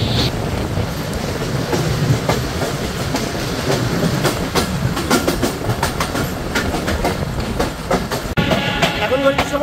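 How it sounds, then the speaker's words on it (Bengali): A train rolls into Abdulpur junction in the rain, its wheels clattering steadily and close under a continuous wash of rain noise. "ট্রেনটি প্রবেশ করছে আব্দুলপুর জংশনে"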